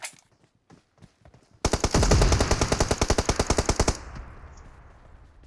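Gunfire in the mobile game PUBG Mobile: a few scattered shots, then a sustained loud burst of rapid automatic fire lasting about two seconds, cut off abruptly and trailing into a fading echo.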